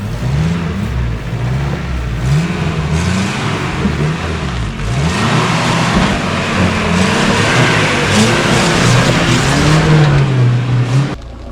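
A Suzuki Gypsy engine labours along an off-road trail, a steady close engine drone with shifting revs and rough rumbling throughout, loud and without talk.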